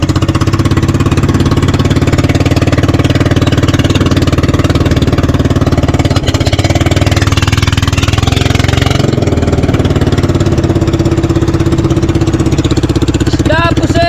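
Loud, constant drone of a fishing boat's engine running at close range, a dense rumbling roar that continues steadily throughout, with faint voices mixed underneath.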